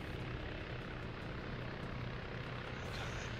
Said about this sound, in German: ich wusste nicht, dass ein Helikopter in der Luft ist